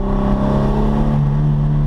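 A mid-engine Toyota MR2 sports car engine drones hard and close, driven hard, holding a steady throaty tone with a slight rise in pitch.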